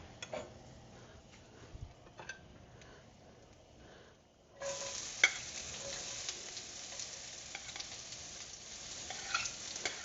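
Peppers sizzle in about a teaspoon of oil for japchae, a quiet crackle that swells into a steady, louder frying hiss partway through, with occasional stirring clicks.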